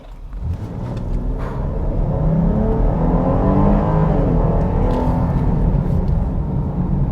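A 2021 Jeep Grand Cherokee L with a Pentastar V6 launches from a standstill, the engine swelling into a steady, loud droning acceleration heard from inside the cabin, with no talking.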